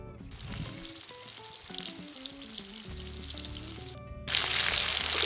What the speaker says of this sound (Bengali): 4-5 মিনিট হালকা একটু লাল করে ভেজে নেবো।